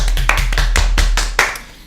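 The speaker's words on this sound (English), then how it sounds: "Round of applause for Nathan Workman." A small podcast studio group gives a guest a brief round of applause, a handful of close, uneven hand claps over a low steady hum.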